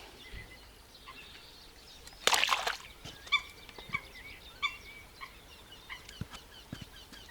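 Scattered short quacks and calls from ducks in breeding season come at irregular intervals over quiet outdoor riverside ambience on the Inhulets River, with a brief burst of splashing or flapping partway through.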